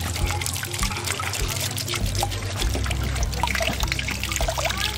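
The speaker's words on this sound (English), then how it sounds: "There you go. A lot of water. Here it comes." Water trickling and pouring steadily outdoors at a forest school, a continuous close splash and dribble lasting throughout, with low rumble underneath and no clear talk.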